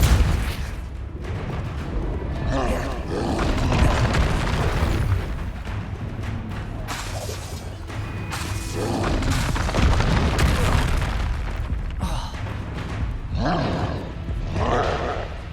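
Spell blasts from Confringo in Hogwarts Legacy erupt as heavy booming explosions over a dense battle din, with repeated rumbling impacts and roaring bursts through the stretch and brief voice fragments mixed in.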